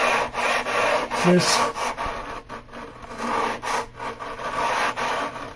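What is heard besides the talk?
sanding rough particle board and glue by hand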